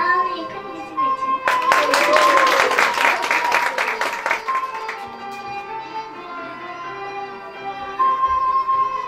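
An audience breaks into applause, a dense burst of clapping that swells for a few seconds and then fades. A voice speaks over a sustained musical tone before and after.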